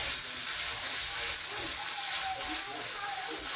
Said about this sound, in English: I'm gonna give it a mix and let it fry.